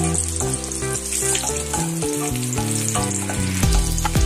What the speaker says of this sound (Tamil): முந்திரி பாதாம இதுல போட்டு வறுத்துக்கோ. இது நல்லா பிரவுனா வர்ற வரையும் வறுத்துக்கணும்.